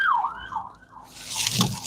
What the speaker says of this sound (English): No, the ambulance siren is on.